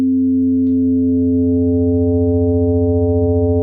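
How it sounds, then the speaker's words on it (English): A steady, pure sine wave tone from the Ableton Operator synth held at a constant pitch, clean and loud with no variation. "So here there's only the sine wave"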